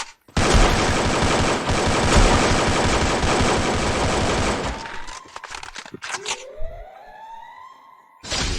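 Gunfire in a video game, a long loud continuous burst of automatic fire that breaks into scattered shots, then rising whines and a siren-like tone, close and dominant.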